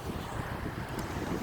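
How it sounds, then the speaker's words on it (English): Ocean waves washing onto the shore at Kings Beach in Lynn, Massachusetts, a steady broadband surf roar mixed with wind buffeting the microphone, with no talking. "So you may hear the water hitting the shore behind me."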